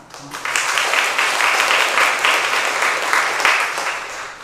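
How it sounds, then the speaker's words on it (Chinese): A church congregation claps together at a Sunday service, a dense, even burst of applause that starts abruptly and holds steady for about four seconds, loud and close, with no speech over it. "咱大家鼓掌"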